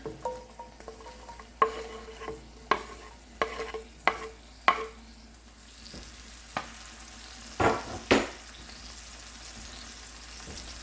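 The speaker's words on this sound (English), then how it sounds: "So I'm gonna add my onions in here." Onions sizzling in a pan of olive oil, being stirred with repeated sharp clinks and scrapes of a utensil against the pan, steady frying hiss underneath, no talking.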